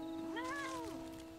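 Single cat meow from the Final Fantasy XIV game, a short rising-then-falling plaintive call lasting under a second, clear and close over a faint steady tone.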